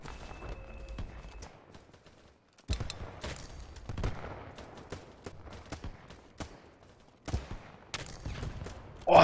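Gunfire in the shooter game BattleBit Remastered: bursts of shots come in several dense clusters with short gaps between them, sharp and fairly close, with no talking.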